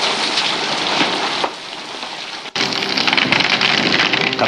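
A sudden, violent hailstorm with stones up to golf-ball and baseball size pounding down, heard as a loud, dense, continuous patter and clatter that drops briefly and then resumes with full force.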